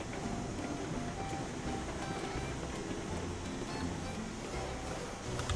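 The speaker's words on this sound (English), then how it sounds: "Okay, we gotta push the train back now," A train is pushed backward with full log skeleton cars at a logging camp in Railroads Online, giving a steady, dense rumbling and rushing roar with no clear breaks.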